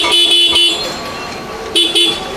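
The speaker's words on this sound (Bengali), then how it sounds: "হর্নটা কি শোনাবেন একবার? আরেকবার শোনান।" A Yamaha R15 motorbike horn sounds loud and close in short bursts, two quick honks at the start and two more near the end, with steady engine noise in between.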